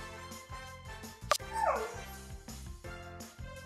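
A cartoonish dog in the Super Why video game barks and whimpers in a few short yips over light game music, with a bright chime-like burst in the middle.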